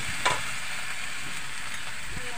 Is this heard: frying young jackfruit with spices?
yes